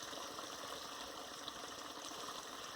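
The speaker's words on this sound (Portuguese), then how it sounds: "Você está ouvindo o barulho da água?" A small stream flows with a steady, faint, broadband rushing of water, continuous and even, heard alone without talk.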